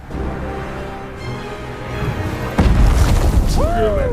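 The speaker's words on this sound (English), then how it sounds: "She's gonna do a superhero landing." A superhero landing impact in a movie scene: low rumbling soundtrack builds, then a sudden heavy boom hits and rolls on loudly, followed by brief whooshing tonal sweeps.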